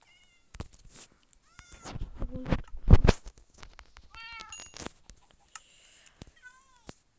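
Several Minecraft cats meow in short, clear cries spread across the clip, some rising and falling in pitch, with faint game sounds between them and no talk.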